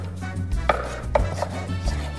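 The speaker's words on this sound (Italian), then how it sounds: "Per la zucca useremo una cubettatura grossolana." Knife chopping pumpkin into coarse cubes on a board, a few distinct close thuds spaced irregularly, with no talking.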